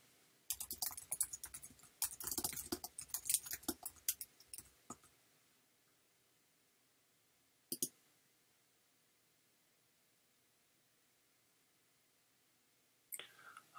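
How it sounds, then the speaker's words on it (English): Rapid clicking keystrokes on a computer keyboard rattle out for a few seconds at close range, then stop, followed by a long quiet stretch with two isolated taps. "I was just typing something to one of the competitors."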